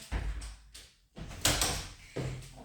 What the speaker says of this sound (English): I'm just going to close this door, guys.